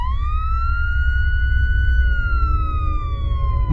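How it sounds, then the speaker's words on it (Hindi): Police-style siren sound effect in a cartoon, in fact a phone ringtone: one loud, close wail that rises, holds, then slowly falls over a low rumbling bed. "तभी वहाँ पर पुलिस की सायरन की आवाज आने लगती है।"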